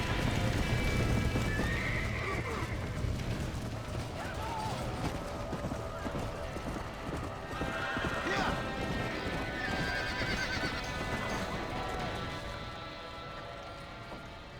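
Continuous clip-clop of galloping hooves runs under repeated horse whinnies in a Red Dead Redemption ranch roundup, the calls rising and falling, with voices talking over the herd.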